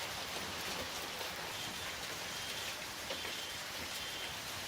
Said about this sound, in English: accompanied by hailstones as big as golf balls, descended violently on the area